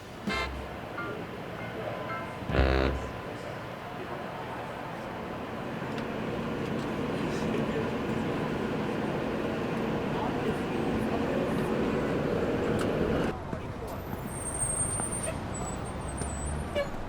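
A New York subway train rides toward Coney Island with a steady, loud rolling rumble, a short tonal toot early on and a change in tone near the end, under a murmur of voices.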